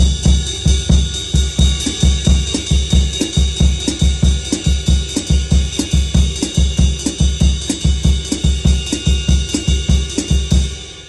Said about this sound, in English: essentially what we have here is a shuffle